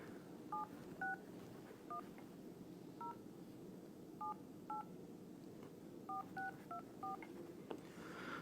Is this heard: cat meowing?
no